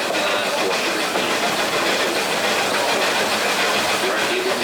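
Historic Barbados sugar cane plantation railway train running along its track, a steady, loud broadband rumble and hiss of rolling wheels and wagons that continues without a break.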